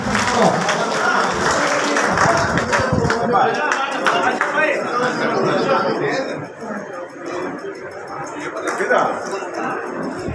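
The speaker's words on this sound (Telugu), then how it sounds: "క్లాప్స్ ఇవ్వాలన్నా క్లాప్స్ కొట్టాలన్నా" Applause from a gathered crowd at a community association meeting where local leaders are being honoured, dense clapping in the first half that thins out, with chatter and voices mixed in.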